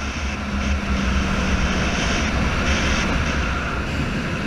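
Motorcycle engine droning steadily while riding over hills, a loud continuous low rumble with wind noise and no break, no talking.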